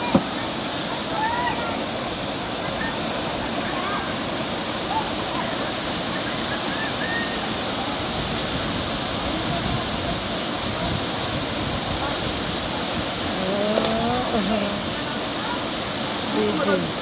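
Waterfall in Pangasinan, a steady, broad rushing roar of falling water that holds constant throughout, with faint voices in the background.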